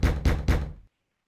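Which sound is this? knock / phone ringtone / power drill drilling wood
knock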